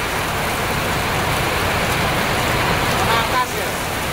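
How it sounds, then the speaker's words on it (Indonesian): Heavy rain pours steadily on a parked bus at a terminal, a dense, loud hiss filling the whole clip with a constant roar and no letup. "Jadi ya, hujan deres banget, hujannya deres tenang."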